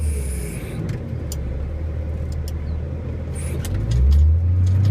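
Cat 980H grapple loader, a machine of almost 90,000 pounds, unloading a log truck: a steady, close diesel engine rumble that swells louder near the end, with faint clanks above it.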